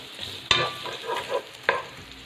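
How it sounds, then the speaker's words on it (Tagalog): Garlic and onion sautéing in oil in a pan, a continuous close sizzle broken by two sharp clatters of a stirring utensil against the pan. "Gisa po natin yung garlic. Add po natin yung ating sibuyas."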